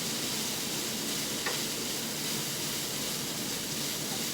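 Hash brown casserole with thyme and spices browns in a pan greased with coconut oil spray, giving a steady close sizzle and hiss with faint stirring scrapes and no talking.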